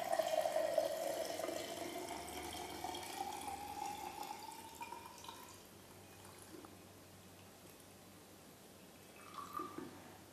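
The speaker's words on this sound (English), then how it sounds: "Now the glass container is placed on the stand and filled with the experimental liquid of the container up to the 3/4 height." Experimental liquid pours into a glass container on a stand for a dielectric measurement, a steady stream that thins and fades over several seconds, followed by a few faint drips near the end.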